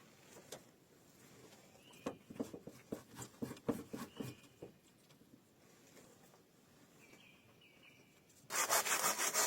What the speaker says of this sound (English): using a handsaw to continue preparing wood for upcoming projects